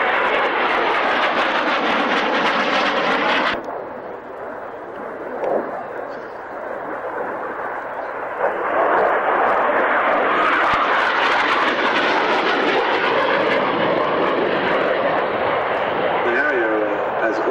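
A Hawker Hunter jet at an airshow roars loudly at first, cuts off abruptly, then swells again into a broad, rising rush of engine noise as it passes, with talk heard over it.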